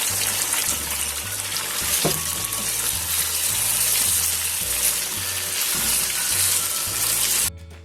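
Chicken karahi frying steadily in a pan as tomatoes go in, a loud continuous sizzling hiss with one sharp knock near the start, then an abrupt stop at the end.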